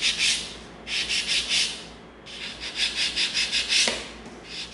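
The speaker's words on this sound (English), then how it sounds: "we're gonna get our smooth bit out that's got the tip on it so we can get in there a little bit" Rotary tool with a smoothing bit sanding an EVA foam hammer prop, close gritty rubbing in short rhythmic bursts, pausing briefly between passes, with no talk.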